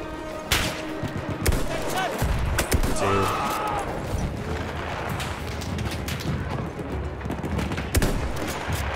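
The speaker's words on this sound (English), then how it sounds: "There's a turret on top of my head." Machine gun turret firing in the World War I shooter Battlefield 1, rapid bursts of gunfire and heavy thuds with explosions cracking in between, loud and close, with occasional voices underneath.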